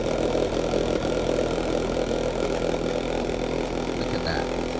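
A cotton candy machine runs continuously with a steady rumbling hum and a faint buzzy whir, close and constant throughout.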